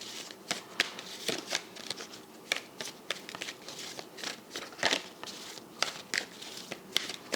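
Tarot cards are shuffled steadily up close, a run of crisp riffling snaps and soft papery slaps repeating in quick bursts with no talking.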